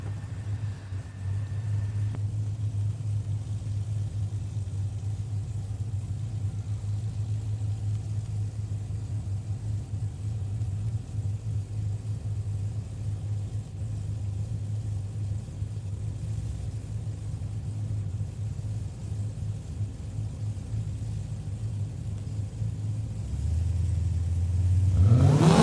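Race cars line up for a grudge drag race at Saskatchewan International Raceway in Saskatoon. A distant, steady engine rumble drones on and swells into louder revving near the end, with no voices.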